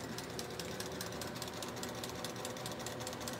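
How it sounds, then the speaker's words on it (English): A home sewing machine runs steadily, giving a continuous fast mechanical chatter with regular ticking pulses, close and moderately quiet, with no talking over it. "I'm touching a sewing machine for the first and last time."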